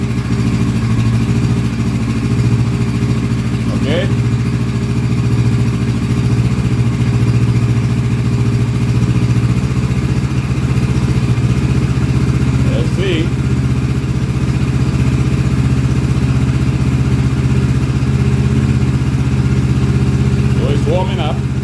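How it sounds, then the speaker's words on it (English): A motorcycle engine idles steadily while warming up, with a constant loud rumble over the whole stretch and a few faint voices talking over it. "After it warms up, then the engine will go down."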